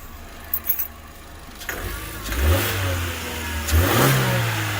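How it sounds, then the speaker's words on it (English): A Chevy Cruze engine with a coolant leak idles, then is revved twice in quick succession, each rev a loud rising surge that falls back, with light clinks of keys at the start. "it's revving up pretty good actually"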